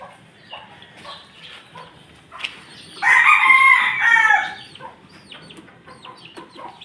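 A backyard rooster crows once, loud and close, among clucking chickens and peeping chicks, with softer clucks and chirps before and after.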